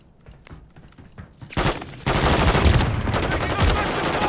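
Call of Duty gunfire bursts in suddenly after a quieter opening of scattered pops, then becomes a loud, sustained barrage of rapid automatic shots.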